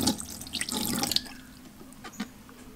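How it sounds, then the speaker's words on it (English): Fermenting weights get washed in hot soapy water at a sink, with running tap water splashing and sloshing close by for about a second before fading to quieter drips and small clinks. "So you just wash these really good, hot soapy water"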